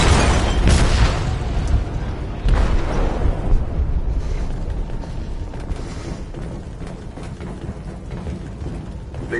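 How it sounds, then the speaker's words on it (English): An explosive detonates in a ship's hold in Detroit: Become Human, a heavy, loud boom with rumbling debris that slowly rolls away into a long, fading roar. "They detonated an explosive in the hold"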